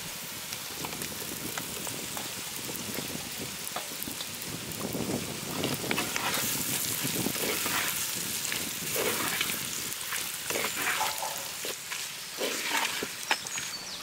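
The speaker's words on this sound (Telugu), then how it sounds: "ముందుగా వేయించి పక్కన పెట్టుకున్న రొయ్యల్ని ఇప్పుడేసి బాగా కలుపుకుందాం" Pre-fried prawns are stirred and fried in a pan for Andhra-style prawn fry. A dense, rain-like sizzle fills the whole stretch, with bursts of scraping and stirring that swell in the middle.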